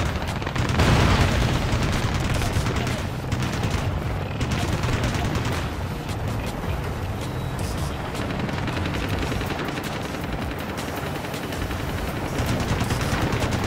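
Dense gunfire and machine-gun bursts roar in the combat flight game Ace Combat: Assault Horizon, a loud, continuous rattle with heavy booms and rotor-like rumble underneath, no voices.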